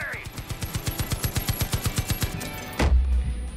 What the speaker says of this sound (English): Take it out with a machine gun.